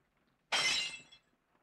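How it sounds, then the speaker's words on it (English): A glass whiskey bottle is dropped and shatters in one loud, bright burst of breaking glass. The crash decays over about half a second and is followed by quiet. "Just drop the damn bottle."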